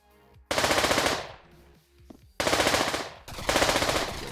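Bursts of rapid automatic gunfire in a Pavlov VR shooter match, three loud sustained volleys of about half a second to a second each, separated by quieter gaps with faint distant shots and clatter.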